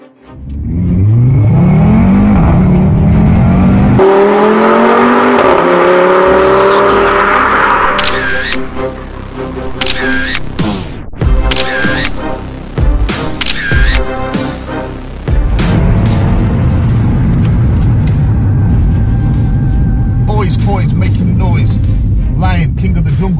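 An Audi RS3 with a turbocharged 2.5-liter engine accelerates hard on the road, revving loudly through rising gear pulls with short shift breaks, close and dominant inside the car, then settling into a steady, loud drone.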